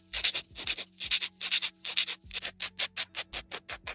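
Glued-on nail tips are filed and reshaped with quick back-and-forth rasping strokes, about a dozen close scratchy passes that speed up into a tighter rhythm in the second half.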